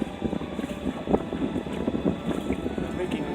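Steady broadband wind buffeting a microphone aboard a solar electric boat heading into a strong, cold headwind on the Rideau near Edmund's Locks, a continuous rough rush with some low rumble and no voices.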